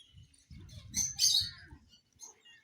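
Birds calling inside an enclosure at a family outing in Cornwall, a few close chirps and squawks over a low rumble of movement, with no talk.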